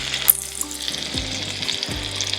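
A trout fillet laid skin down in a hot pan over a medium-high flame, frying with a loud, continuous sizzle and crackle and a few brief pops.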